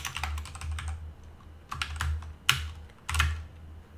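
Commands are typed into a terminal on a computer keyboard: close, uneven runs of light key taps with a few sharper, louder strokes like the enter key, over a faint low hum and with no speech.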